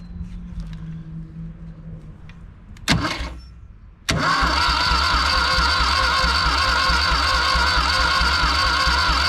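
A 1974 Ford 3550 industrial tractor engine cranks after a few clicks and a short rattle, then catches abruptly and settles into a loud, steady, thumping diesel run close by.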